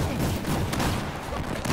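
Steady, dense gunfire fills a 12v12 shooter video game match, a continuous rattling barrage with overlapping shots and no clear gaps.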